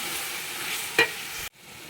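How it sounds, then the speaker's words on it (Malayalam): Sliced onions fry in hot oil for chicken dum biryani, a close, steady sizzle with one scraping stir in the middle before the sound cuts off abruptly. "ഓയിൽ സവാള നന്നായിട്ട് ബ്രൗൺ കളർ ആവുന്നത് വരെ വഴറ്റിയെടുക്കണം. ഇടയ്ക്കിടയ്ക്ക് ഇതുപോലെ ഇളക്കി കൊടുത്തുകൊണ്ടിരിക്കണം."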